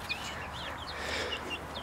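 Icelandic chicks out on fresh pasture give faint, high, scattered peeps over a steady outdoor background hiss, with no voices.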